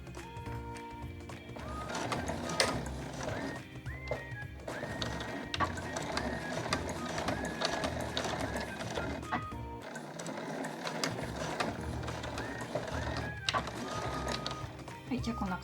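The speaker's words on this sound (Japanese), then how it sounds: "1センチほどのところを返し縫いしながらしっかりと縫い留めていきます" Fast, buzzing chatter of a sewing machine backstitching a bag's fabric edge about a centimetre in, in quick mechanical bursts with a short pause; someone talks over it.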